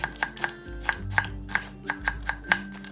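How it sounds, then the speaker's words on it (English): A knife chops half an onion on a cutting board in a kitchen, about a dozen crisp, evenly spaced knocks at a quick steady rhythm, close and clear with no talking. "Meanwhile, cut half an onion into appropriate sizes."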